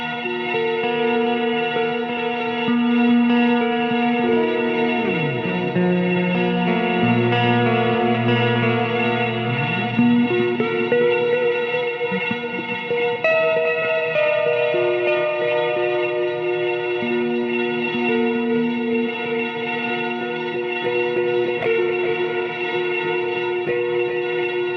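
A sustained, layered guitar drone from a Walrus Audio Qi Etherealizer pedal's freeze function holds steady while gliding, echoing notes swell and bend over it, with an octave-up effect, dense and washed in reverb, with no talking.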